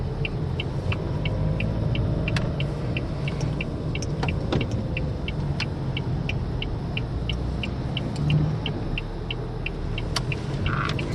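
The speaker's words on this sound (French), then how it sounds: "Je vais donc lancer mon véhicule." A car accelerating to merge onto an expressway, its engine and road rumble steady and close from inside the cabin, with a regular faint ticking, likely the indicator, running throughout.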